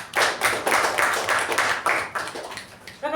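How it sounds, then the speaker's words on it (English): Hands clapping at a Toastmasters meeting for the speakers and evaluators, a small group producing a fairly close, pulsing patter of claps that holds steady for a few seconds and then thins out. "huge round of applause for the speakers and the evaluators"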